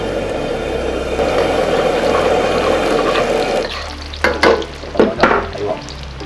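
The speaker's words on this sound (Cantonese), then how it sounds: "然之後矮瓜落去， 差唔多好，洋葱落去炒一下。" Eggplant and onion stir-fried in a wok with garlic and curry leaves, a steady loud sizzle for several seconds, then quieter frying broken by a few sharp scraping stirs near the end.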